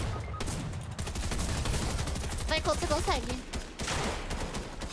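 Rapid bursts of gunfire from a Fortnite match, loud and close, crackling in quick volleys while someone speaks briefly over the shooting.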